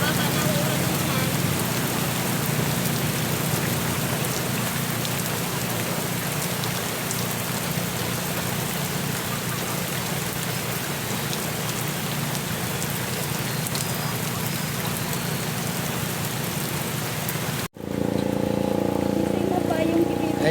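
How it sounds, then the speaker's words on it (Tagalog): Heavy, continuous rain pouring down loudly and evenly, with a brief dropout near the end before the downpour resumes along with faint other noises. "Grabing ulan dito, hindi man lang tumitigil."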